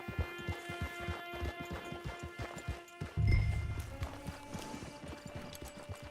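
Horse hooves clip-clop at a steady walking rhythm in the Red Dead Redemption 2 video game, near and fairly loud, with a brief heavier thud partway through and no talk.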